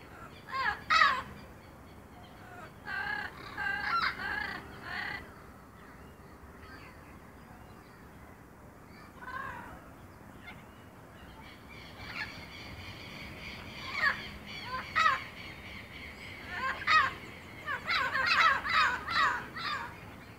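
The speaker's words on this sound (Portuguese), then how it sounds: "É um casal de papagaio na casa de João de Barro, ó." A pair of parrots squawk at a hornero's mud nest outdoors, harsh raspy calls coming in irregular bursts, some loud and near, others fainter, with quiet stretches between.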